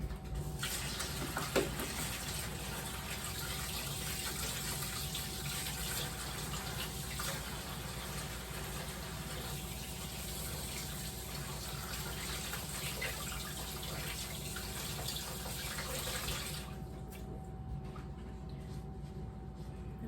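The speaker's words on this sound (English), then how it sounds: "I'm going to wash my hands really quick so I can grab the bowl." Kitchen tap water runs steadily and softly for about seventeen seconds as hands are washed, a continuous faint rushing that stops abruptly near the end.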